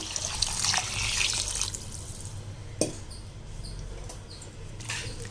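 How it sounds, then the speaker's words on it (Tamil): Water poured from a tumbler into washed rice in a cooking pot for hotel-style sambar rice, a steady splashing trickle with a brief sharper splash midway, close and alone. "இதில் ஆறு டம்ளர் தண்ணி விட்டுக்கலாம்"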